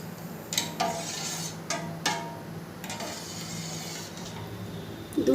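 A pot of milk set on a gas stove gives a few light metallic clinks and taps, scattered and fairly close, over a low steady hiss of the burner, with no talking.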